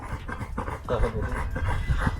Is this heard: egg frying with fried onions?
no